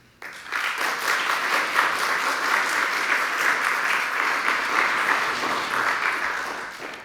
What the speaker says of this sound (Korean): 뜨거운 마음으로 환영의 박수하겠습니다